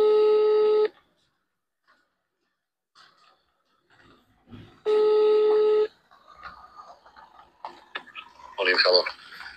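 A phone call to the mayor of Karlovac rings out twice, each steady tone lasting about a second with a long silent gap between, followed by faint breathing and rustling and then brief sounds of the line being picked up.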